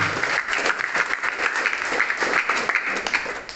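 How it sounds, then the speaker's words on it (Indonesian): An audience applauds high-achieving students in sports, arts and academics at an education office award ceremony in Kupang: dense, steady clapping from many hands, fairly close, with no talk over it. "Olahraga, seni, dan akademik, kita beri aplaus untuk mereka ini."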